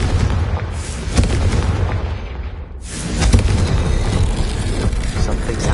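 A fire-blast spell exploding in the Hogwarts Legacy video game, producing loud booming bursts with a dense crackling rumble, a short lull, then another heavy blast and rumbling tail.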